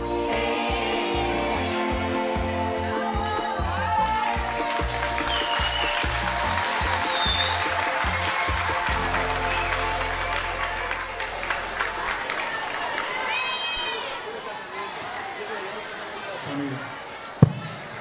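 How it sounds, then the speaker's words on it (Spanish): A school recital audience claps for third-grade performers, a sustained round of applause over background music that thins and fades toward the end, with a voice over it. "Démosle otro fuerte aplauso al grado tercero"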